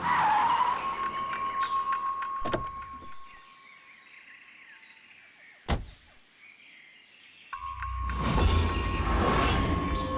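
A car with both tyres punctured skids and grinds to a halt, with a loud tyre screech at the end after a quieter stretch broken by two sharp knocks or thuds.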